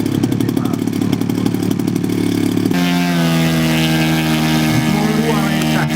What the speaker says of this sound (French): Les pales de l'hélice passent devant vous.